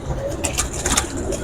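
Pigeons cooing on a rooftop where green, teddy and golden pigeons are kept, soft repeated coos at close range over a low background hum, with brief calls standing out against distant traffic.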